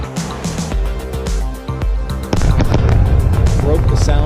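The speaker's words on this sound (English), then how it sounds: "That sonic boom is great for us." A returning Falcon 9 booster sends a sonic boom through the room as a deep, forceful thunderclap, with rumbling that builds into a loud, sustained roar while people talk.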